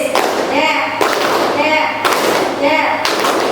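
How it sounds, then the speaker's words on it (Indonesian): A classroom of students in a university teaching-practice lesson claps a rhythmic game pattern, with loud, close bursts of many hands repeating about once a second while voices chant along over the claps. "Clap this, clap that, clap that, clap that, clap this,"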